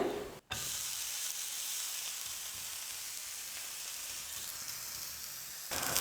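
Uttapam batter sizzles steadily on a hot griddle over full flame, a continuous close frying hiss that runs almost unbroken for several seconds, with one brief dip near the start.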